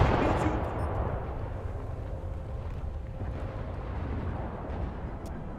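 Naval guns on a warship fire at a distant target about 6000–7000 metres away in a naval combat game, heard as a heavy boom at the start that fades into a low, rumbling wash of distant shots.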